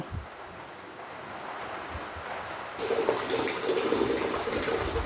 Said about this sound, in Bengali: বালতিতে আরেকটু জল ভরে নেব নিয়ে তাতে জামা কাপড়গুলো একটু ভিজিয়ে দেব